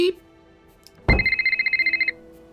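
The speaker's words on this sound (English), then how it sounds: "Oh, cell phone." Cell phone ringtone in the Nancy Drew video game The Silent Spy, a bright electronic trill of rapid repeating pulses lasting about a second after a sharp onset, loud and close.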